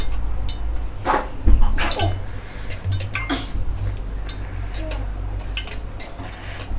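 Badusha flour dough being mixed with hot oil in a bowl, giving irregular clinks and scrapes of utensil against the bowl under a steady background hum, with a few brief louder knocks.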